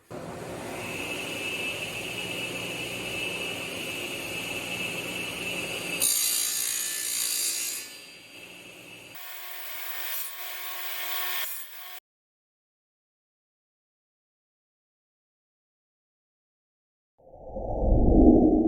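A saw blade set about 1/8 inch deep cuts aluminum fret slots during a Fender-style guitar neck build, giving a steady grinding, ratcheting rasp for several seconds before stopping, then a brief louder rumble near the end.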